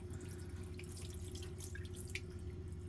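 Faint running and dripping water as dirt is rinsed from the heat exchanger of a heat pump tumble dryer, a steady trickle with scattered drips over a constant low hum.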